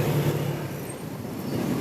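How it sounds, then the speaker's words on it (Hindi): City road traffic at Lalpur Chowk in Ranchi makes a steady broadband rumble of passing vehicles and engine noise, fairly close and continuous, with no voices. "जैम ट्रैफिक मिल गया, जाम खुल गया है, मतलब ट्रैफिक खुल गया है।"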